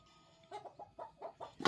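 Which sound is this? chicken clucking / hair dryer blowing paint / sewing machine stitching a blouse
chicken clucking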